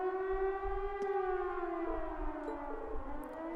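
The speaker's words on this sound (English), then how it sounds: "Sounds like a siren. It seems to be coming from the fort." A civil defense style siren wails from a fort in the video game Trails of Cold Steel, a long steady rising-and-falling tone with harmonics, fairly distant and sustained throughout with no talk over it.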